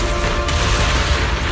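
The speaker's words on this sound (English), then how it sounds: "Move in during the gaps between explosions." A short, loud explosion burst from the video game Zenless Zone Zero, with a rumbling crash and dense noise sustained throughout.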